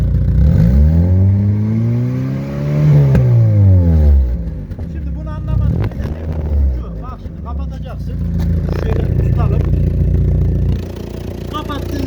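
A car engine with a leaking, blown exhaust is revved hard and allowed to drop, loud and rough up close. Clattering and a voice follow as the engine idles on underneath.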